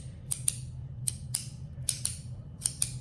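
A cheap haptic coin spins on its thrust bearing, giving sharp, paired metallic clicks that repeat in a fairly regular rhythm over a faint low hum, close and quiet, with no talking.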